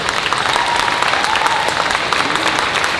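Steady, dense applause from a theatre audience at a Q&A event in Ghent, loud and continuous from start to finish with no break in the clapping.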